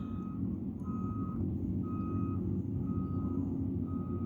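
Truck backing up with regular reversing beeps, evenly spaced tones over a loud, steady low engine rumble, heard close with no talking.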